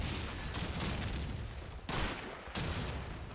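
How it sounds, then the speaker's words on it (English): A gunfire cannonade in Call of Duty 2 during a tournament match: a dense, continuous roar of overlapping shots and booms with sharp bursts near the two- and two-and-a-half-second marks, no voices. "A cannonade happening on the middle."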